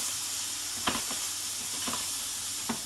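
Chopped onion frying in a pan for stuffed chicken breasts with pilaf rice: a steady, close, soft sizzle with a few brief stir clicks, no voices.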